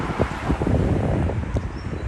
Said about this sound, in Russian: О, прям здесь ветрено как.